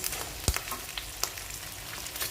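Garlic and onion sauté in a pan for Igado, giving a steady close sizzle with a sharp clatter as they go in and a few light scraping touches after.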